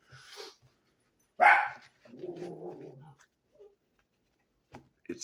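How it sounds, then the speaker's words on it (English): A dog gives a couple of short barks with a low growly sound between them, fairly close, separated by quiet gaps. "Now she's barking at me."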